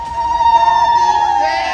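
A crowd of devotees at the Maa Kamakhya temple chanting and cheering, voices blending into a steady, loud, sustained roar with a high wailing tone running through it for under two seconds.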